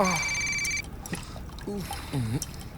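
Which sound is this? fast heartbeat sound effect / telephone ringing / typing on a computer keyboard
telephone ringing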